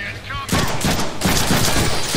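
Rapid bursts of gunfire from a gun in the Deadpool video game, loud and close, breaking in after a brief quieter moment and continuing in dense, sustained volleys.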